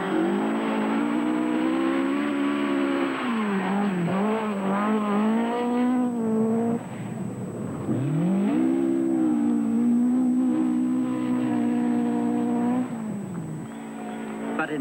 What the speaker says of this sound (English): Even this close to home, Greg Carr can't relax because Vatanen is catching up time